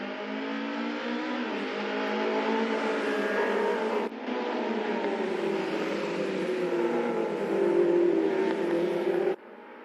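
Race cars launching at the start of an online Assetto Corsa league race: several engines rev and climb through the gears together, a layered droning whine rising and shifting, with a brief break midway and an abrupt cut at the end.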